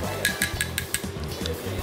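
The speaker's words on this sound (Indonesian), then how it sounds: "kita aduk dulu" A spoon clinks rhythmically against a glass while stirring milk coffee made with a 100% Arabica house blend, a quick run of bright taps close by over a low background.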